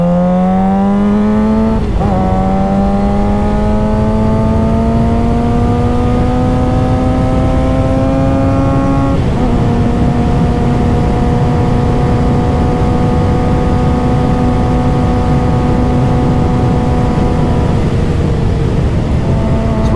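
Suzuki GSX-R sport motorcycle engine ridden hard on the road, loud and steady, revving up through the gears with brief shift drops, strong continuous exhaust drone carrying throughout with no talk.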